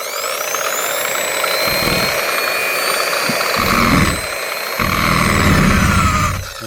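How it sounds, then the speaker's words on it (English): A burnishing tool runs on a low speed setting on a rusty Ford F150 roof, making a loud, steady high-pitched whine with a low rumble that comes and goes as the tool touches the metal. "right here in the burnishing tool, it has the speed from 1 through 8. I'm just going to go ahead and start it at 1."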